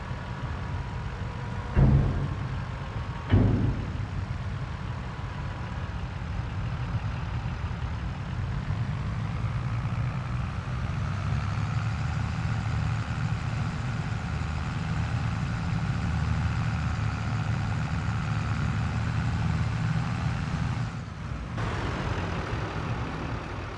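A stubborn broken-down truck's engine runs in a steady, loud idle, with a couple of brief knocks early on and a small shift near the end.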